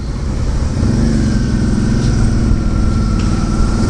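A motorcycle rides past on a busy road among other cars, a steady close engine drone with a brief rising whine, heard alone without talk.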